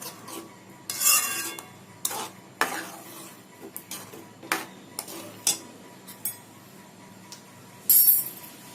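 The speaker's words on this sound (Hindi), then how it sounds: "अच्छे से मिक्स कर लेंगे।" Leftover boiled vegetables are stirred with salt in a pan, giving a spoon's repeated scraping and clinking against the metal, irregular close strokes with quiet gaps, no speech.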